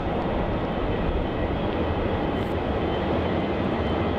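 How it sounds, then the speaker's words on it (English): A Virgin Australia Boeing 737-800 departing Melbourne Airport for Sydney, a loud, constant broadband jet engine roar filling the whole stretch without letup, close and steady. "Our next departure is going to be Virgin Flight 813 departing off to Sydney"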